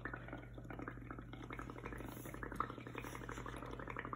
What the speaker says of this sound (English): Blow in it with your straw.